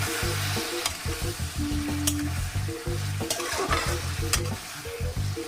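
Bengali dry fish curry with fried beans and eggplant stir-fried in oil in a pan, a constant close sizzle with repeated rhythmic stirring scrapes and occasional sharp spatula clicks, no voices.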